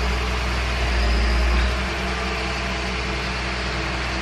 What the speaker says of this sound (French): Mais aujourd'hui c'est le camion poubelle.